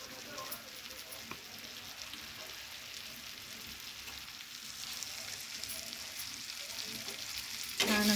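Soaked soybean chunks sizzle and crackle in masala as they are stirred and fried in a pan, a soft, steady frying hiss with occasional scraping, fairly quiet and close.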